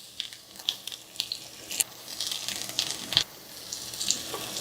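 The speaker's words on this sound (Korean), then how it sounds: "식용유를 두르고 전을 좀 부칠게요" Enoki mushroom and perilla-leaf pancakes frying in cooking oil on an induction hob over medium heat, a soft steady sizzle with scattered crackles and pops, close and fairly quiet, with no talking.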